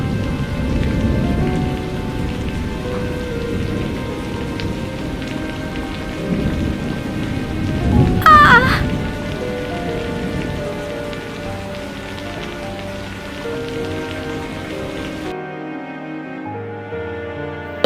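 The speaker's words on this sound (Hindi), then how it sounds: "देखो कैसा बारिश" Heavy storm rain pours steadily with a thunder crack in the middle, then the downpour fades and quiets near the end.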